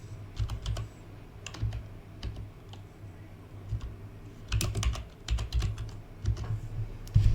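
A search is typed on a computer keyboard, with bursts of quick, close key clicks separated by short pauses and no speech.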